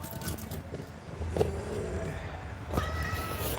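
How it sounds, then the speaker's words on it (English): A cat meows indoors, giving a couple of brief, faint cries over a steady low background hum. "Used to be a nice cat."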